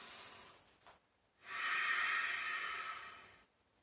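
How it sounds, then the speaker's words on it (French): One long, deep inhale through the nose during an upper-body exercise, close and breathy, rising into a steady hiss for about two seconds after a couple of softer breaths. "donc j'inspire"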